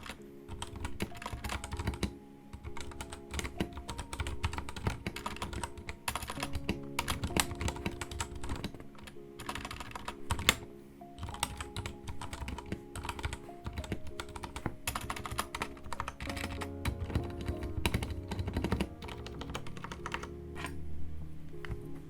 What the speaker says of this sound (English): Here you can hear the sound test of the keyboard without any moddings and with the Outemu brown switches still.